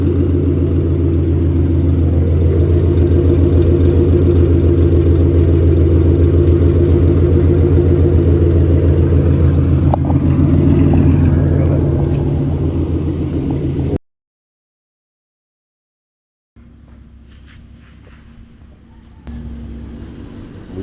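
A 2014 Ford Mustang with the 3.7 V6 and BBK long-tube headers idles with a loud, steady, deep rumble for about fourteen seconds, cuts to silence, then returns as a quieter idle.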